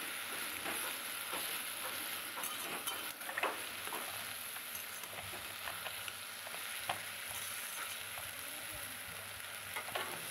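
Steamed taro leaves are stirred and fried in a wok with little oil, giving a quiet continuous sizzle broken by soft scraping taps of the spatula against the pan.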